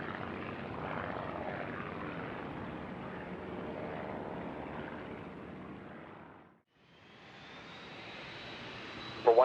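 A private jet at Van Nuys Airport, cleared for takeoff from runway 16 right, gives a steady, loud engine roar that holds for several seconds, dips briefly, then returns with a rising high whine.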